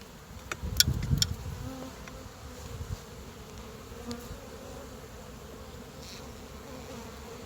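Honeybees buzz steadily around an opened hive, a dense close drone with a few louder swells as bees fly near, then settling into a constant hum; no talking.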